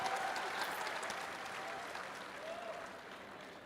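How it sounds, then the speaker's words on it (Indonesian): An audience at a public Q&A forum in Semarang applauds steadily for several seconds, a moderate, even wash of clapping that slowly fades, with faint voices underneath. "Kasih tepuk tangan dulu."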